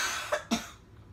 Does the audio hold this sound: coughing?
yes